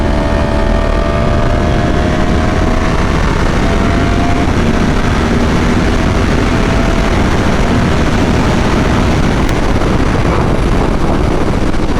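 A Yamaha R1 sport motorcycle is ridden on a road, its engine note loud and constant under heavy wind rush that masks most detail throughout.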